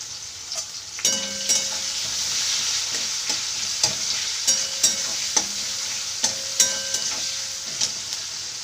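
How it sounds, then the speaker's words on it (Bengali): Onions frying in hot oil in a home kitchen while meat is being prepared, a steady sizzle broken by repeated scraping and stirring taps of a spatula against the pan. "পেঁয়াজটা দিয়ে বাদামি বাদামি করে ভেজে নেব।"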